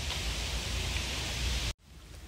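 Steady rain falling in a Vietnamese outdoor setting, a dense hiss of even noise that cuts off abruptly near the end, leaving quieter background.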